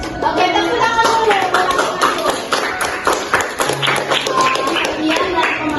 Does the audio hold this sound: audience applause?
yes